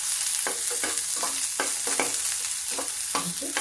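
Onion and garlic sizzling steadily in a pan, with repeated scraping stirs of a spatula cutting through the constant hiss.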